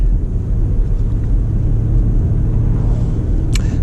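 A 2022 Ford Mustang Mach-E electric car cruises on a highway, heard from inside as a loud, steady low road rumble and tire noise, with a faint brief click near the end.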